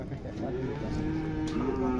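A single long, low cow moo drawn out over a couple of seconds at a cattle fair in Afogados da Ingazeira, Brazil, moderately close, against faint outdoor background noise.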